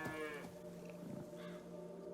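A single cow gives one drawn-out moo in The Witcher 3, low and sustained over a steady ambient hum.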